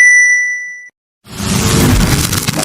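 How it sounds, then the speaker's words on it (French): A notification bell chime rings out with a bright sustained tone, cuts off into a short silence, and is followed by a loud, dense clanging burst of sound. "n'hésitez surtout pas à vous abonner et d'activer la cloche de notification."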